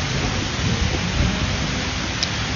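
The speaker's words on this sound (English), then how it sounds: "Ooh, and it started raining on me." Steady rain pours down outdoors at night, a dense, even hiss of falling drops with no voices.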